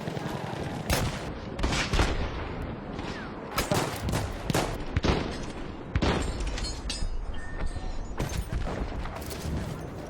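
Battlefield 1 gunfire crackles in a distant skirmish, with repeated sharp rifle shots and bursts scattered over ambient battle rumble and booms.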